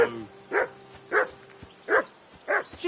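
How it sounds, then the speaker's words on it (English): A dog barks five times at an even, steady pace, each bark moderately loud and a little distant, with quiet gaps between them. "Henry, that barking's driving me nuts"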